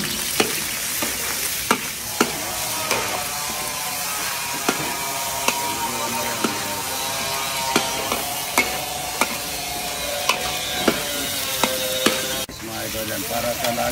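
Ginger and plenty of onion frying in oil for a Filipino soup, a steady close sizzle broken by regular sharp knocks of a utensil stirring against the pan, with no talk.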